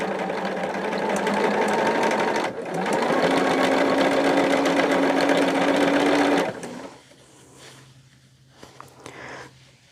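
A sewing machine stitches binding onto a large quilt in a sped-up run: a loud, steady, buzzing whir for about six seconds, a brief dip partway, then the motor stops, leaving quieter handling sounds.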